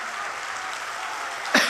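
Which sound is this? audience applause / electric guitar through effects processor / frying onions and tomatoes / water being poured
audience applause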